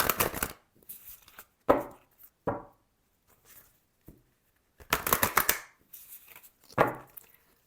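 Tarot cards being shuffled in several separate bursts of crisp riffling and slapping, close and fairly loud, with short pauses between bursts and no talking.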